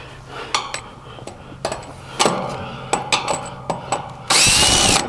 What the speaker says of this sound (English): Gotta pull the cage, guys.